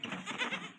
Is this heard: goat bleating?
yes